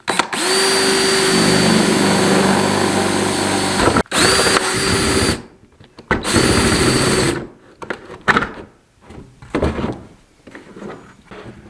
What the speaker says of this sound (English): So we're going to try to just drill a hole right here.